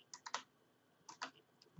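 Faint, close keystrokes on a computer keyboard while typing a search into Google: a quick run of three taps, a pause, then three more light clicks.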